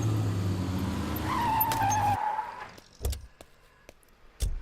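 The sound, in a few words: car stopping in the middle of the road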